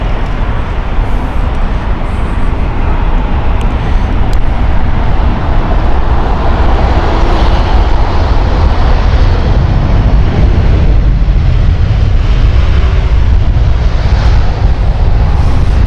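A Bamboo Airways Boeing 787-9 at Heathrow, a loud, close jet roar with heavy low rumble that swells and shifts as the aircraft moves, filling the whole stretch without talk.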